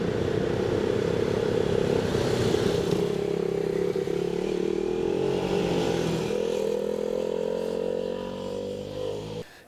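A KTM RC390 single-cylinder motorcycle engine drones steadily nearby on a road ride in the hills around Maranello, its pitch sweeping up and down through gear changes before fading at the end.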